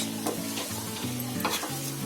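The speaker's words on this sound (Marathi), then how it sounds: "तेलामध्ये ती फ्राय करायची" Oil fries on a very hot heavy tawa with a steady, close sizzle, while low scraping and stirring strokes repeat under it, with no talking.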